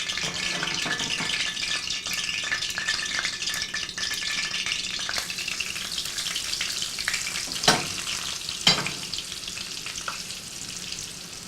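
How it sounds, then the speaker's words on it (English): Onion rings deep-fry in hot oil with a loud, continuous sizzle and crackle, a couple of sharper pops and clatters near the end. "just so we can fry up our onion rings"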